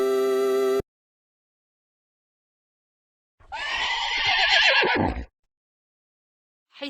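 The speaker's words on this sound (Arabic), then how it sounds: "حصان." A horse neighs once, a loud, close whinny lasting under two seconds that rises and then trails off, set between stretches of silence after a brief tonal chime.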